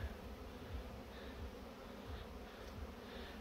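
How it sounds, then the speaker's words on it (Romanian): Alert honey bees swarm around hives in an apiary, filling the air with a dense, unbroken buzzing drone with no voices over it. "Și aici, albinele sunt un pic în alertă."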